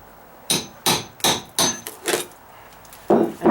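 Hammer pulling staples out of wood during a deck repair on dry-rotted framing, six sharp metallic strikes and pries spaced about half a second apart, close and loud, with brief quiet between them.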